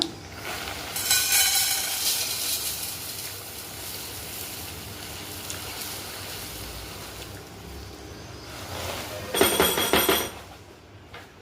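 Honey-coated cereal mix rattles and rustles as it is poured into an airtight container in two close, loud bursts, a longer pour first and a shorter one near the end, with quieter handling noise between.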